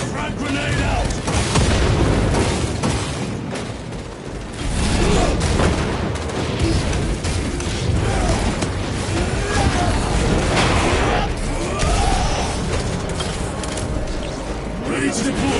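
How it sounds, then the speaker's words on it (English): Frag grenade blast in Warhammer 40k Space Marine 2, a loud, sustained roar of explosions and battle noise filling the whole stretch, dense and continuous with combat chatter mixed in. "Frag grenade out!"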